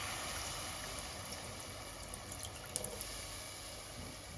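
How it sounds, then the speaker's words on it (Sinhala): Water is poured into a pan of jaggery syrup while making Sri Lankan pani aluwa, a faint, steady rushing wash that runs evenly throughout with no voices. "දැන් ඊට පස්සේ අපි තවත් මේකට වතුර ටිකක් එකතු කරගමු."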